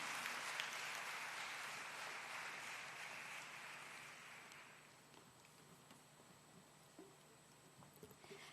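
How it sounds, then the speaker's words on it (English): Audience applause at a graduation convocation ceremony: a dense, steady crowd clapping that fades out after about five seconds, leaving a quieter hall with a few scattered claps. "let's have a final clap as part of the clapathon"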